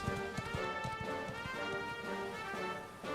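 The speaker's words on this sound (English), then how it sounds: "We shall ride on the horse." In the video game Dragon Quest XI, a horse's hooves clip-clop in a steady, fast rhythm under continuous background music and ambience.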